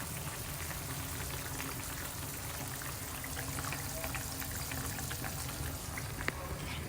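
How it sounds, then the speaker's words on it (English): Steady bubbling and simmering of three-cup chicken sauce in a pot, a continuous soft churning with small pops scattered throughout, close by and fairly quiet. "I think you can hear the bubbling sound."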